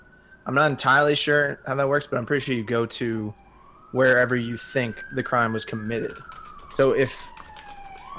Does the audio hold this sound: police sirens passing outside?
yes